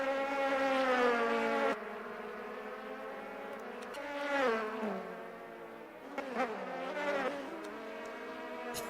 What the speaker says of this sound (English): I just purposely downshift all the way to first just to light it on fire